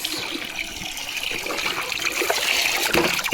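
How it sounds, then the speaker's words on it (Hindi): Water poured from a bucket for a thirsty cow, a steady splashing, trickling pour that runs close and fairly loud for the whole stretch without pause. "तो इसको हम पानी डाल सकते हैं बाल्टी से"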